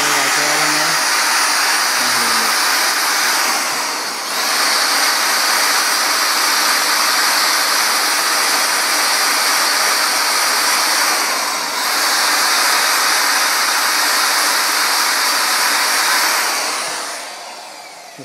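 A power tool runs steadily through the lifter bores of an engine block to clean out rust and burrs, giving a loud, continuous high whirring hiss. It briefly dips twice and then winds down at the end.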